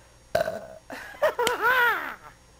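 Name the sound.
belch after drinking coffee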